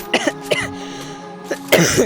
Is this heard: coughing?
yes